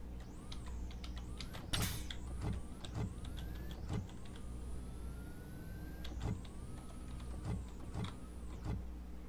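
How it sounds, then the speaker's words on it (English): Roblox Mad City Aston Martin V12 game car giving off a smooth electric-style whine with rising pitch sweeps like gear changes, steady and fairly loud, broken by a few sharp clicks and thumps. "it has the sound of an electric vehicle with gears."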